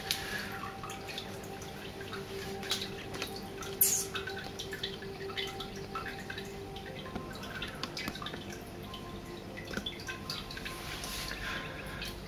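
Water trickles and drips quietly from a jug into a nano shrimp aquarium, a faint, continuous flow with occasional louder drops and no voices.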